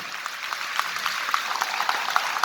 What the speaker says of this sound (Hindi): एक जोरदार तालियां सर के लिए, जोरदार